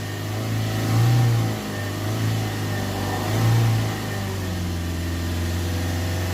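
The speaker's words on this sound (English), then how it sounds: "Hold the revs back up around 3000 RPM if we can." A Ford Transit Custom 2.2 diesel van with a recurring DPF and MAF fault, its engine held at a steady drone and swelling twice in smooth rev rises before settling back, loud and close with no talk.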